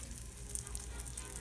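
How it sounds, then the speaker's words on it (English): A grilled cheese sandwich sizzles in a hot pan with a faint, steady hiss and occasional tiny crackles, quiet and continuous with no talking. "Now it's gonna sizzle a little more."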